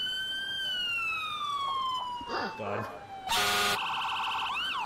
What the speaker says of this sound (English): Why does it sound like ambulances have air horns?